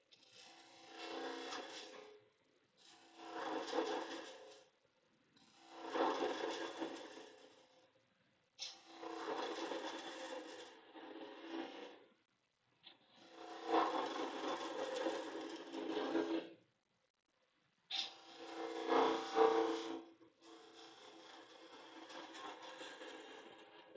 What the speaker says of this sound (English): Spindle gouging likes to make little cuts.